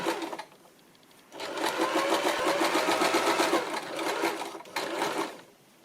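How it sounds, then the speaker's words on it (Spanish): A sewing machine stitches a buttonhole down one side. It starts with a short burst, pauses, then runs in a long rapid stitching whir and stops briefly before a final burst. "Y ahora ya vamos cosiendo hacia abajo."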